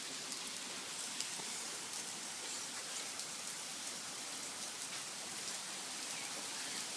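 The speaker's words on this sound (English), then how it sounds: "It's pretty downpouring. It's raining pretty hard." Heavy rain pours down in a dense, steady, even hiss of drops hitting surfaces, with no pauses or talk.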